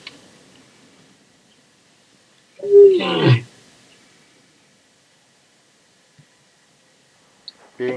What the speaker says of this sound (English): Being only a few meters away from this male lion, you could actually feel his roar vibrating through your body.